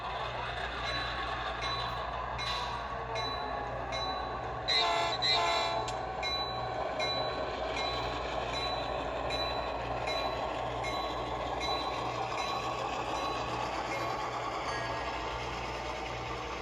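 Athearn Genesis CN 4911 model locomotive, ex-Conrail, running its scale sound speaker: a steady diesel engine drone with a repeating low throb and a brief horn-like swell near the middle, fairly quiet and continuous.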